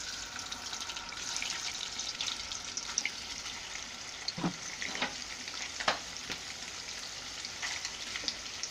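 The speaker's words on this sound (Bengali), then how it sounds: "আমার তেলটা গরম হয়ে গিয়েছে, এখন আমি পনিরগুলো দিয়ে দিচ্ছি।" Paneer cubes fry in hot oil in a home kitchen, giving a soft, steady sizzle with a few sharper crackles and pops scattered through. The sound is fairly quiet and close, and there is no talking.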